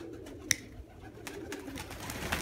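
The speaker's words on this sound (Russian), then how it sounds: "Это вот плохие голуби." Pigeons coo softly and close by, with a low murmuring sound over faint background noise. A brief sharp click or flutter interrupts it once, and there is no talking.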